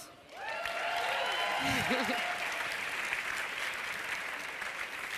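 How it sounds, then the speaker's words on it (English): A crowd at a film award ceremony breaks into sustained applause that swells quickly and stays full and steady, with brief whistles or whoops rising over the clapping early on. "Can we get one more round of applause for the amazing Christophe Delporte?"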